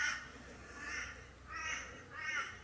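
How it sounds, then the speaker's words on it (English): Crows caw repeatedly in an autumn garden, three harsh drawn-out calls rising and falling at moderate distance over a quiet outdoor background. "Very quiet apart from the birds."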